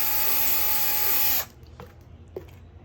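A power drill bores a hole in wood while building a finch nest, with a loud steady whine for about a second and a half before stopping, then a few faint knocks.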